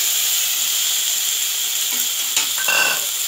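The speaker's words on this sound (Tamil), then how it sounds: "இப்போது இந்த நண்டு கால் இருந்தது இல்லையா, இதை நம்ம சேர்த்துடலாம்." Crab legs sizzling in a pan of sautéed onions for crab soup, a loud continuous hiss with a sharper burst as the pieces land and a brief stir near the end.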